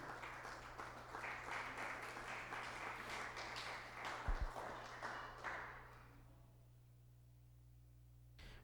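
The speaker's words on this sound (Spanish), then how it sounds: "Dele palmas al Señor" Clapping from a church congregation during a Spanish-language service, a steady patter of many hands for several seconds that fades out, leaving a low hum.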